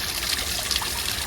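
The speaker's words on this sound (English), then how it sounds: "This huge waterfall tumbling down." A large waterfall tumbling down cliffs along a coastal path, heard as a steady close rushing and trickling of water with no voices, even and unbroken throughout.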